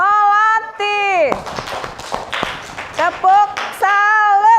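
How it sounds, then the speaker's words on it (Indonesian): A fourth-grade classroom claps for a student group, with sharp patterned hand claps bunched in the middle, framed by loud chanted and sung children's voices before and after. "Tepuk tangan untuk kelompok Melati."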